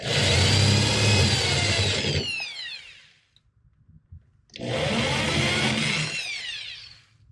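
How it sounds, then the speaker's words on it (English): Two loud bursts of a power drill grinding out metal rivets on an Austin-Healey car, each lasting a few seconds, with a short quiet pause between them. "now I'm going to try to start drilling some of these rivets out of here"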